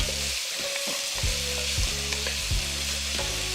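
Potatoes fry in bacon grease in a skillet, a loud, dense sizzle with repeated scraping strokes as they are moved around, close up and without voices.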